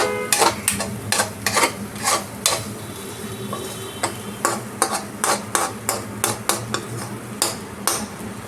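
Spoon scraping and clinking against a pan while stirring mashed eggplant bharta seasoned with a pinch of garam masala, a steady series of sharp metallic taps and scrapes close by, with no talk.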